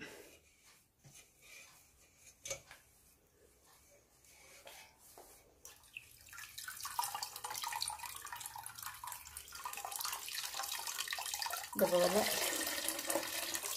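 A cloth bundle of soaked wheat is squeezed to press out liquid for rose apple wine, giving a growing wet trickle and splash that turns to a steady stream in the second half, with a brief voice early on.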